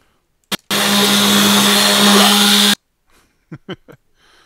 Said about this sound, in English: the blender's really loud